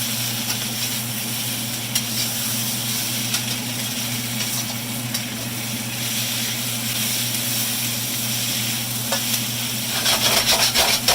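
Shrimp sizzling in a hot pan, a steady close frying hiss with a low hum beneath, growing brighter and busier near the end.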